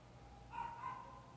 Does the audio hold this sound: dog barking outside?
yes